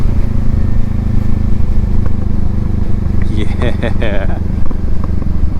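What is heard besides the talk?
Kawasaki Eliminator motorcycle exhaust popping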